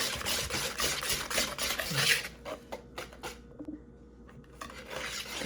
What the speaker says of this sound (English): Gonna go in and kind of mix that real good until it's all nice and smooth with the whisk.